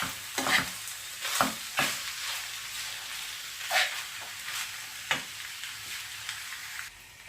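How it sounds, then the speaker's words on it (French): A spoon scrapes and turns a fish and broccoli stuffing in a bowl, moist squelching strokes with several louder scraping passes against the sides, close and unaccompanied by talk. "Donc là, vous mélangez bien la farce."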